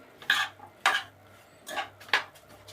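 A spoon mixing carrot and radish pickle in a dish, four distinct scraping, clinking strokes spaced evenly apart, each short and fairly close, with quiet gaps between.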